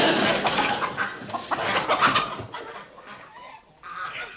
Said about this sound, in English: Just some chickens cackling in the lobby.